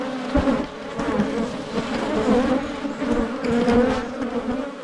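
A honeybee swarm buzzes loudly and continuously during a hive transfer into new boxes, a dense, steady hum of many wings close by with no talk.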